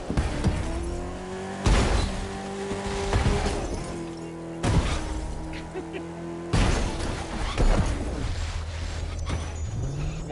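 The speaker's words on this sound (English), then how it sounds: "Monster truck is extremely agile." A monster truck in The Crew 2 roars and revs over rough mountain terrain, with engine drone, tire skids and sharp crashing impacts breaking up the run at intervals, loud and close.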